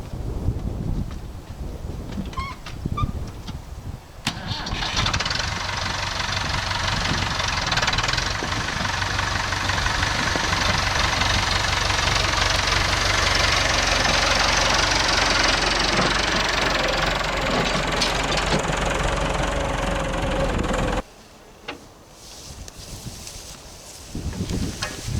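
A tractor engine starts up outdoors in a hayfield and settles into a steady, knocking idle, running loud and close for about sixteen seconds before cutting off, with wind buffeting the microphone throughout.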